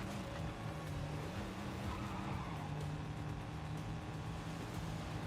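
Car engine roaring steadily with tires skidding and squealing as it slides around corners in the spy video game 007 First Light, loud and continuous throughout.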